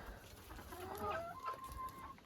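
Several chickens cluck and call in a mixed backyard poultry coop, with a longer crowing-like note; the birds sound close and steady over low farmyard background noise.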